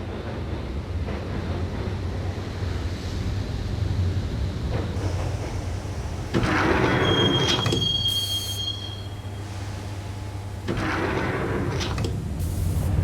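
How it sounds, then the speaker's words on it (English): A train rides along the tracks in the video game Max Payne, a continuous low rumble of wheels with rising metallic squeals and screeches in two surges. It is steady and enveloping throughout, with no talking. "the train doors had already shut behind me, and I was in for the ride"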